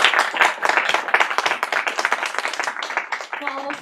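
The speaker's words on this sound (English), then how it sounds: "Please give a round of applause for our three producers." An audience at a sixth form Question Time event applauds the producers with close, lively clapping that holds steady before tailing off as a voice starts to speak.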